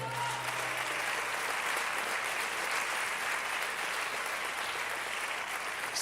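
A church congregation giving sustained applause, broad continuous clapping from many people heard at moderate distance, even and unbroken from start to finish, with faint crowd murmur underneath.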